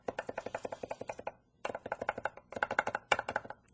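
A knife rocks back and forth on a cutting board while mincing garlic. It makes quick, even, quiet tapping chops in two runs separated by a short pause.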